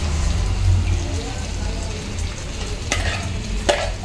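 Eggplants in a pan with onion paste for a gravy, sizzling steadily while being stirred, with a couple of sharp scrapes of the spoon against the pan near the end.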